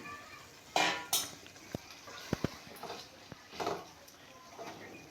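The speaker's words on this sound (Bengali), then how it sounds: "মশলার সাথে ডিমটাকেও কষিয়ে নিতে হবে" Eggs stirred and fried with masala in a pan: scattered clinks and scrapes of a spatula against the pan over a faint background sizzle, with a few sharper taps, no talk.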